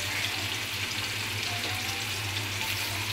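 Chopped onions and sliced green chilies fry in hot oil for a pangas fish do-pyaza, giving a steady, dense sizzle throughout with no talk.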